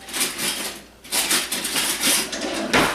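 A small scalloped spoon scrapes and scoops the pulp out of a pumpkin, making repeated close, rough scraping strokes with short pauses between them and a brief knock near the end.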